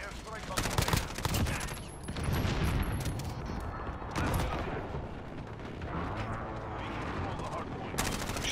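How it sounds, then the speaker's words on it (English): Precision airstrike explosions in the video game PUBG hit in a dense, continuous barrage of booming blasts and crackling gunfire, loud and close, with voices talking over the din. "Friendly precision airstrike on the way."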